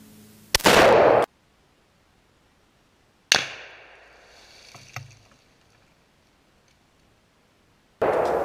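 Springfield Armory M1A rifle shots setting off ammonium nitrate reactive targets outdoors: a sharp loud crack, a later blast with a trailing rumble and smaller pops, then another loud report at the end.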